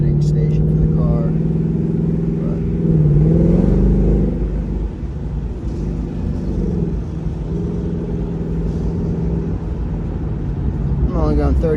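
A Ford Mustang GT convertible with a 10-speed transmission cruises at 35 mph. Its engine gives a steady low drone, swelling briefly, alongside road and wind noise, with a faint voice in the background.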